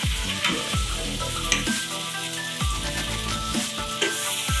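Flourless Russian cheese pancakes (syrniki) sizzle loudly and continuously in a hot pan, with a few stirring or scraping touches and music playing underneath.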